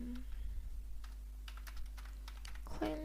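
Rapid clicks of typing on a computer keyboard as a name is entered, light irregular taps spread through the stretch, with a brief burst of other noise near the end.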